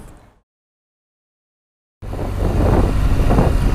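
BMW R 1200 GS Rallye motorcycle riding, heard after a short silence as a loud rumbling engine drone mixed with rushing wind noise, steady and close.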